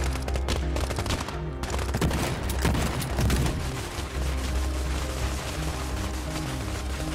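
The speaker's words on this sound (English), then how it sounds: "How the hell y'all shooting a kid" Dense bursts of gunfire in Life is Strange 2 are aimed at a kid: rapid overlapping shots and booming volleys run through the whole stretch, loud and close, with no talk.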